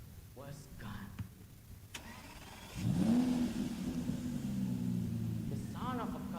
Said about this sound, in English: The sound of a car, it sounded from the outside.